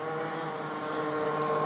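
Motorbikes drone steadily at moderate distance in suburban Rotterdam, the pitch holding fairly even with a slight rise toward the end.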